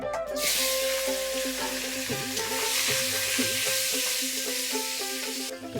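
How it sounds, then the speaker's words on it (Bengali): Hilsa fish pieces, rubbed with turmeric and salt, fry in hot oil in a village kitchen, a loud continuous sizzle and crackle close by, with faint clinks and scrapes of a utensil underneath, and no talking. "তেল গরম হয়ে গেছে এবার মাছ ভেজে নেব"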